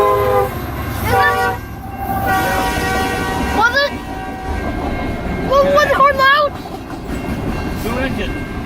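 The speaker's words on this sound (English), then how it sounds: "Is this horn loud?" A train horn blares loudly in repeated long blasts as a train rolls past on Armstrong Road in Newport, with rail rumble underneath and people talking excitedly nearby.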